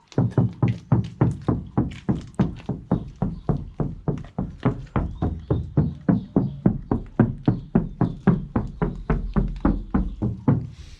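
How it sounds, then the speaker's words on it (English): Repeated knuckle knocks on a bare, undeadened sheet-metal side panel of a VW Transporter T5 van, a steady rhythm of about three hollow, ringing raps per second that carries on for over ten seconds, loud and close, with no talking. "I want to give you the knock test like I did before when it had just the standard one on."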